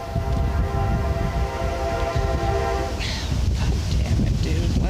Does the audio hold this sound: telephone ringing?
no